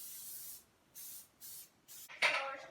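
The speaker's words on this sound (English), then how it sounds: "We're going to spray our tins. I have some coconut oil spray." Four short hissing bursts from a coconut oil cooking spray can onto baking tins, close and fairly quiet, separated by brief pauses, the last one sharper and louder.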